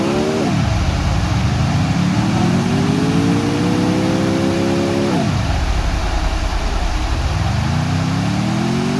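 A car drives in Free Fire, its engine revving up in long rising sweeps and dropping sharply as gears shift, loud and close over a constant noisy wash, with no talking.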